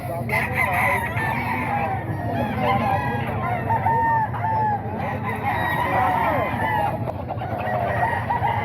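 Chickens at a gamecock sale cluck and a rooster crows repeatedly, close and loud, with a busy crowd of voices talking throughout.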